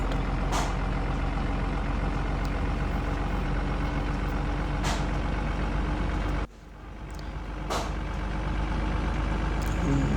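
A Tata truck in a truck driving video game gives off a constant low engine drone with a brief dip and a few air-brake hisses, close and loud throughout.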